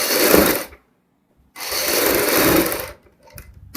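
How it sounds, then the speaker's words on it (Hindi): A sewing machine stitches kurti fabric in two close, loud runs of rapid whirring, separated by a short pause and followed by a few brief bursts as the stitching stops and starts. "अब हमने इसके ऊपर सिलाई लगानी है।"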